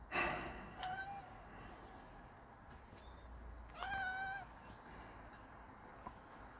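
A cat meows from the Atari ST video game Ynis Witrin: Isle of Glass, a few short synthetic mewing cries, one near the start and a louder drawn-out one midway, over a quiet background.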